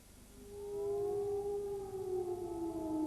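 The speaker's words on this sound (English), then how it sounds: "the air raid sirens echoed over Tel Aviv" Air raid sirens wail over Tel Aviv, a faint, distant rising and falling tone that echoes across the city and swells then holds steady.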